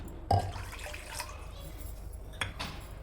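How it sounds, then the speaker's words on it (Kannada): Water poured into ragi and rice flour, a faint splashing pour beginning with a brief knock, over a quiet room hum. "ಈಗ ಒಂದು ಬಟ್ಲ ಈ ನೋಡಿ ನೀರು ಹಾಕ್ತೀನಿ"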